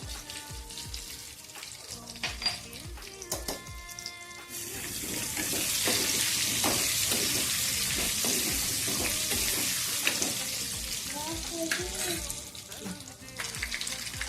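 Cumin, potato and spinach sautéing in a pan with salt and kitchen king masala, a steady loud sizzle and frying hiss with intermittent stirring scrapes and clinks, close and continuous, no talk.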